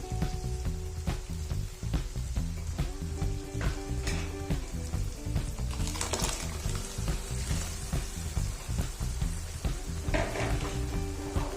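Raw tomato puree sizzles and fries in a pan for a vegetable gravy, a loud, dense, continuous crackle close up, with a few scraping stirs over it and no talk.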